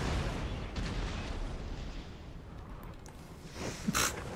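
Artillery fire in a Napoleon Total War battle, a continuous low rumbling roar of distant cannon booms with a couple of sharper reports near the end, no talking.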